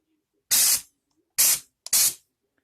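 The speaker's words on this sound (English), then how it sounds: "You can do like a spray gun, where you pull the trigger, you get air but no paint" A paint spray gun hisses out three loud bursts, the first two long and the last preceded by a short spurt, each a broad airy rush separated by silence.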